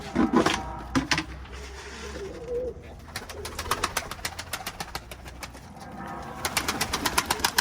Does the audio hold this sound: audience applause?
no